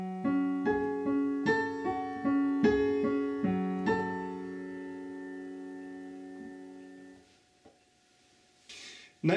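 Piano playing a song with octaves in the right hand, a slow series of sustained struck chords ringing out and decaying into quiet at the end.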